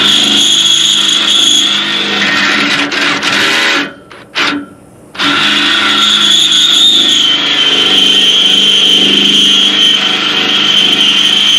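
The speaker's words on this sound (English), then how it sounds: "Let's get this drilled out, at least get this mounted." A power drill whines loudly and steadily, boring through a Rock Block mount during its install on a John Deere. It cuts out briefly in the middle with a stutter, then resumes at full volume.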